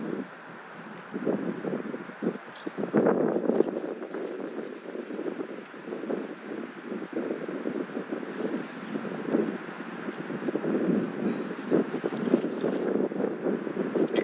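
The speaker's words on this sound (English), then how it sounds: "The wind's blowing like 10 to 20 miles an hour" Gusty wind buffets the microphone in a continuous rough roar, rising and falling in strength, with faint crackling underneath.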